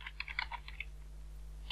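Keystrokes on a computer keyboard while entering a date-format macro, a quick cluster of crisp clicks in the first second, then sparse taps over a low steady hum.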